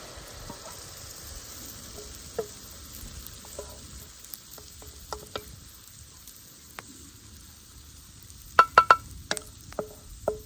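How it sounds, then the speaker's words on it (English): Quiet, steady frying sizzle of cornbread batter in a hot pan over a fire, with soft scattered clinks and knocks, including a quick run of sharper taps near the end. "you're going to hear a nice sizzle when this cornbread goes in."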